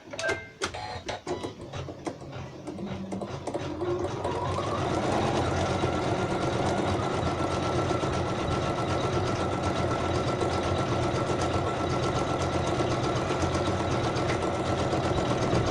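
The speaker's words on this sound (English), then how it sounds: "So this is the embroidery getting set down" An embroidery machine stitches a coaster in very light pink thread, starting with a few sharp clicks, then settling into a steady, fast mechanical whirring hum that runs without pause.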